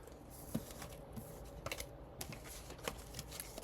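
Tarot cards being shuffled by hand in sections, a soft continuous riffling and sliding of card stock with a few sharper snaps, close and fairly quiet, with no talking.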